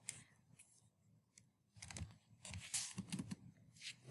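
Data being typed on a computer keyboard, with soft scattered key clicks at first, a pause, then a quicker run of close, crisp keystrokes, faint and without talk.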